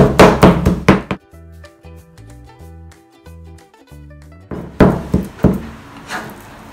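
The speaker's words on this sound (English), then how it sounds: "Now we just need to chop this up. So just chop it up finely into a sort of like a paste" Raw prawns chopped finely into a paste on a wooden board: bursts of rapid, loud, hard knife thuds at the start and end, with a gentle melodic music passage between them and no talk.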